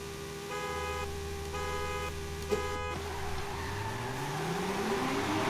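Honda S2000 in Forza Horizon 5 held on the handbrake at full throttle, its engine droning steadily then climbing in pitch as revs rise, loud and continuous with a brief click partway through.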